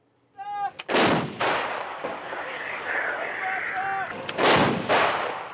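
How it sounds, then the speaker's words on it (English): Artillery barrage in eastern Ukraine targeting Russian positions, two heavy booming blasts a few seconds apart with rolling echoes, a voice heard briefly amid the reverberation. "A relentless barrage in eastern Ukraine targets Russian positions."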